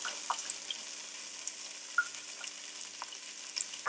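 Chopped onions and green chilies fry in oil for semiya upma, a steady soft sizzle with a few light stirring clicks and pops, fairly quiet and close, no voices.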